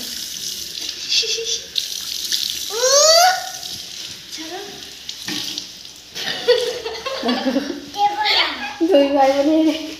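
Tap water runs into a sink as a small child, standing on a chair to reach, washes their face, with children's voices and chatter over the steady splash.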